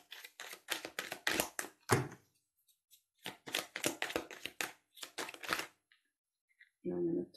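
Tarot cards are handled and drawn in quick bursts of papery flicks and slaps, close by. A voice talks between the bursts.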